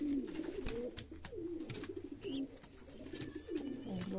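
Fancy Shirazi pigeons coo in repeated, rolling bursts close by, with a few faint chirps between the calls.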